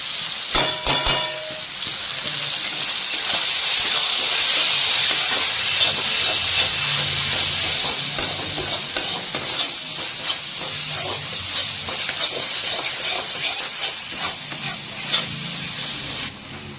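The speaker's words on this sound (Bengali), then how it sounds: "এইবারে দিয়ে দেবো মশলাগুলো, এই যে ধনে, জিরে, হলুদ, লবণ আর 2 রকমের লঙ্কা গুঁড়ো।" Ground coriander, cumin, turmeric, salt and chili powder fry in hot oil for a chicken curry, giving a steady close sizzle and hiss with frequent scraping stir clicks from a spoon against the pan.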